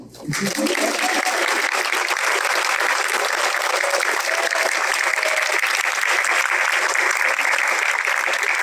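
Sustained, dense applause from an audience at a pediatrics graduation ceremony rises quickly and holds steady and loud throughout.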